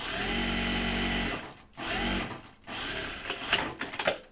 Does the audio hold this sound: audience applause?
no